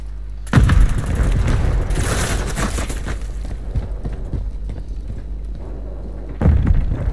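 A grenade blast and heavy gunfire in the Call of Duty Modern Warfare III Invasion mode, with a loud boom opening a long stretch of dense shooting and explosions that swell again at the end.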